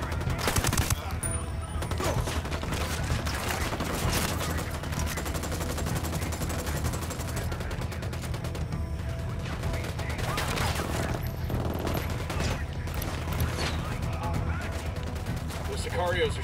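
Sicarios fire automatic weapons in Ghost Recon Wildlands in a steady, dense fusillade of rapid shots that carries on unbroken, loud and close, with voices mixed into the din.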